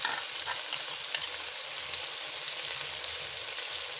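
Chicken sizzles and fries steadily in a pan as a spoonful of ginger paste goes in for haleem, a continuous close crackle with a few brief stirring clicks and no talking.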